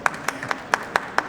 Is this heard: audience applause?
yes